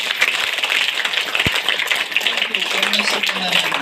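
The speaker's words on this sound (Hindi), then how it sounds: "पहले जोर से ताली बजाएं यीशु के लिए" A church congregation claps loudly for Jesus during a Hindi worship service, a dense, steady wash of many hands lasting throughout without pause.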